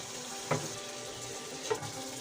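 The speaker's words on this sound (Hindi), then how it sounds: "मसाले को हम चिकन के साथ अच्छी तरह भूनेंगे" Chicken and masala frying in a pan, a soft steady sizzle with two brief stirring scrapes, quiet and close, no voices.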